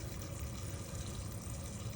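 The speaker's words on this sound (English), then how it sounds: "I'm just gonna put a little bit more water on top" Water poured steadily onto a potted orange tree cutting, a continuous close splashing rush with no pauses and no talk.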